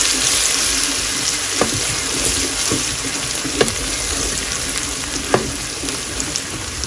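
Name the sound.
garlic and ginger frying in a pan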